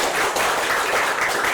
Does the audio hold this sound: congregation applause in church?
yes